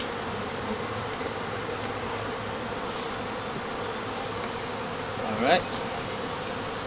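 Honeybees buzz steadily around an open yellow hive during a frame-by-frame inspection, a dense continuous drone with one louder bee passing close near the end.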